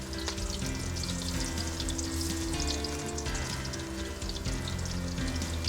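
Pakoras fry in hot ghee with a continuous loud bubbling sizzle and crackle, steady and close throughout. A low hum sits underneath, and no voices are heard.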